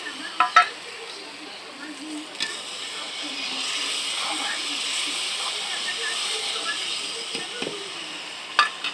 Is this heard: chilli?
yes